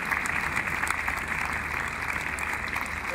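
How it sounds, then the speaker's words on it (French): An audience at a horse competition applauds the Romantic Love team in a steady, sustained wash of clapping at moderate volume, continuous and even throughout. "je voulais que vous puissiez applaudir toute l'équipe"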